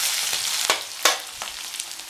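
Crushed garlic sautéing in hot oil in a pan, a bright, close crackling sizzle punctuated by a few sharp spatula scrapes and taps, no talking.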